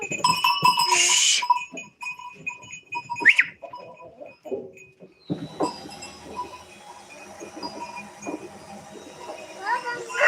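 Goats on a farm bleat several times, loud nearby cries mixed with more distant ones, while people talk over and between them.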